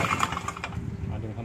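A VIGOTECH GG950DC-PLUS portable generator is started and its engine catches with a short burst of rough, sputtering chugs that settles into a running rumble.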